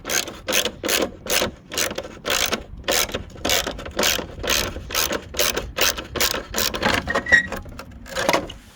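A hand ratchet turns stubborn headlight bolts on a dually truck in a steady series of short, rhythmic rasping clicks, roughly two or three strokes per second, close up and with no talking.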